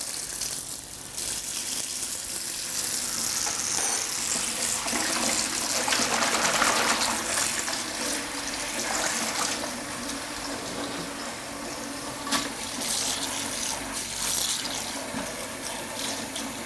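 Running water splashes steadily as gotu kola leaves are rinsed in plain water, a continuous close wash of flowing and sloshing with brief louder splashes throughout.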